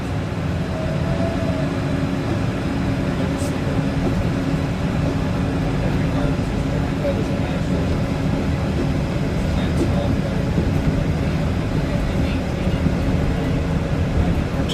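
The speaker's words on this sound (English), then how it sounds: "welcome aboard the Disneyland monorail" Aboard the Disneyland monorail, a steady rumbling hum of the train rolls on throughout at even loudness, with faint ticks and rattles on top and people talking in the background.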